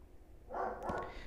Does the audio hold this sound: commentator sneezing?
no